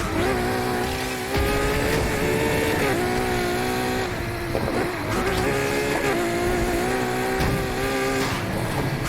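A car on drag tires in Need for Speed Heat, its engine roaring steadily up and down in pitch with brief dips between gears, loud and close throughout.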